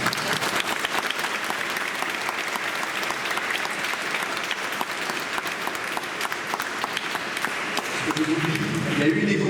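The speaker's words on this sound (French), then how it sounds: "Moi, je les applaudis." Sustained, dense applause from a pilgrimage audience fills nearly ten seconds at a steady loud level, with a voice starting to speak over it at the very end.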